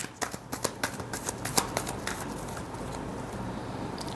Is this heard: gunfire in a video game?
no